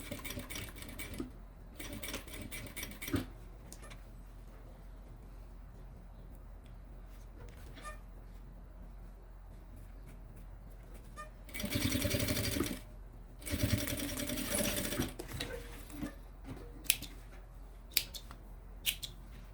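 A sewing machine stitches the strap onto a Kipling-style fabric pouch, running in two loud bursts of rapid mechanical chatter separated by quieter handling and scissor-like clicks.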